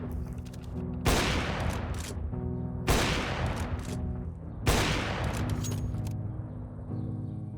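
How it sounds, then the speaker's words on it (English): Counter-Strike rifle fire on the Inferno map, shot through a wall from the terrorist apartments toward banana: three loud, close bursts of rapid gunfire, each about a second and a half long, separated by short gaps with no talking. "This old known banana wallbang from the terrorist apartments is still working."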